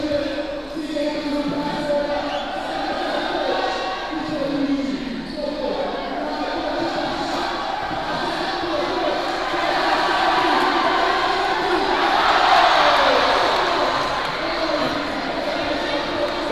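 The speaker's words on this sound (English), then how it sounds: "The crowd loves it. The crowd loves it." Crowd noise fills an indoor arena during the final quarter of the 2024 KOTC Caribbean Basketball Championships third-place game between Atletico Bahamas and Santo Domingo, a steady roar under commentary that swells louder near the end.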